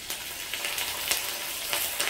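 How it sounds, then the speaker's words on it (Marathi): Curry leaves added to hot oil with peanuts frying for a poha tempering, a soft steady sizzle with light spatter pops and stirring scrapes, fairly faint. "आता ह्यामध्ये मी कढीपत्ता घालते"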